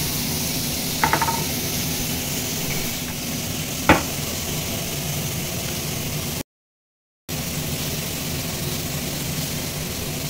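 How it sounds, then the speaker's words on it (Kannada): Tomato frying in ghee for a quick sandwich, a steady broadband sizzle throughout with a couple of faint clinks, broken by a short silent gap partway. "ನೆಕ್ಸ್ಟ್ ಟೊಮೆಟೊ ಫ್ರೈ ಮಾಡ್ಕೋಬೇಕು ತುಪ್ಪ ಹಾಕಿ"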